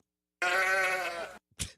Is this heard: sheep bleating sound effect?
yes